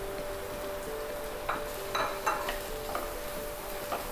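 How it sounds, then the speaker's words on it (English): Garam masala, salt, red chili powder and turmeric saute lightly in a pan for chicken masala, a soft continuous sizzle under several distinct spatula scrapes and taps against the pan, with no speech. "Just lightly saute it to remove the rawness of the spices, but also be careful not to burn it."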